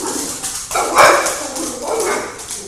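An angry dog barks and growls a few times in close succession, loud and near, with a sharp burst in the middle.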